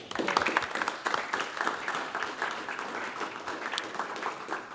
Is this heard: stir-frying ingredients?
no